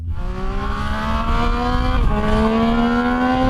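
A 2025 Triumph Speed Triple motorcycle engine revving loudly up close, its pitch climbing steadily, dipping briefly at a gear change, then rising again, with no talk.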